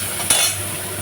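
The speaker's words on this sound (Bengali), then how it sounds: "চিংড়ি মাছ এখন ভাজা হচ্ছে।" Shrimp fry in a pan with a steady background hiss, broken early by a single sharp clank of a utensil against the pan; no one speaks.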